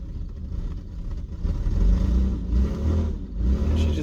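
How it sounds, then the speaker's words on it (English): A Volvo wagon engine that has reverse but no forward gears revs repeatedly, swelling and falling in rough, close surges with mechanical clatter underneath. "She just does a lot of revving up."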